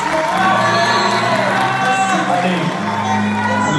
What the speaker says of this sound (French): On applaudit Hamdi, s'il vous plaît.